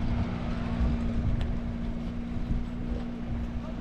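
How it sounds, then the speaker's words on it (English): A passing boat engine off Phuket drones steadily with a low constant hum, mixed with wind buffeting the microphone and rushing water. "Another boat."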